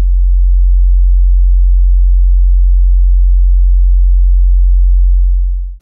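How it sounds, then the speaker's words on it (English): A steady 45 Hz low-frequency test tone plays alone as a deep, unbroken hum. It stays at the same loud level for about six seconds and then cuts off. "45 Hz sounds like this."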